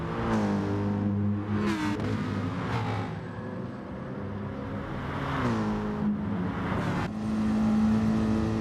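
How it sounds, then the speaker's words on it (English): A Mercedes-AMG V8 race car in a racing video game on the Sardegna road track, its engine revving up and down through gear changes in repeated sweeping pitch climbs, loud and close, without talk. "Big AMG singing. Big mighty V8, sounds glorious."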